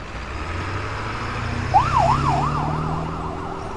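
An ambulance siren rises in and wails up and down over a low traffic rumble, fairly close and growing steady.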